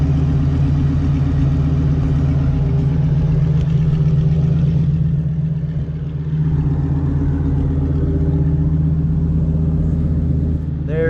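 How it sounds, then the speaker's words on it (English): Lamborghini Gallardo with a V10 engine and aftermarket exhaust, rumbling steadily at idle up close, a deep continuous drone that dips slightly midway before settling back. "it's got a V10. It's a really nice car. Sounds really good. It's got an aftermarket exhaust on it."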